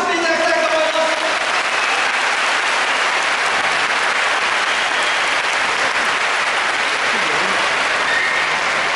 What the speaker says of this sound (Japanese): 優勝を争ったことも力士に成長した石垣にぜひ皆様拍手を送っていただきたいと思います。